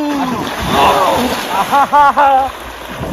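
Water splashing as a man wades into a fish pond to catch fish by hand, with sloshing movements and voices talking over it.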